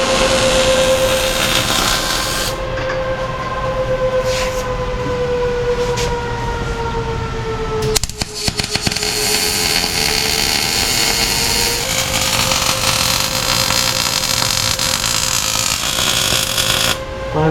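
A 1993 Cobra's twin turbo engine with bullet mufflers runs loud and steady with a droning exhaust tone that swells and dips, a sharp burst of revving near the middle, then settles back into a rumbling idle.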